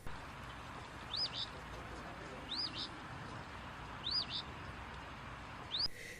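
A phoebe repeats its short, rising two-part song four times at even intervals over a steady background hiss.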